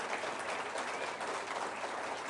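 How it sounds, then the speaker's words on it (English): Rally crowd at a Reform UK conference clapping steadily, a thick, even wash of many hands sustained throughout at moderate loudness. "You can clap for that."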